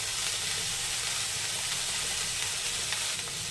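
Potatoes and bottle gourd stems frying in a pan, a dense continuous sizzle with faint stirring, close and steady with no voices.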